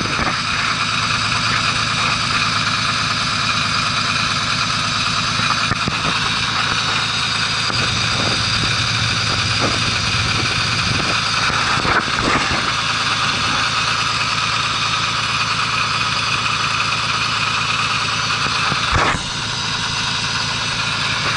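A Cannonball motorcycle engine idles steadily after a cold winter start, a loud, continuous mechanical drone with a few brief bumps and no voices.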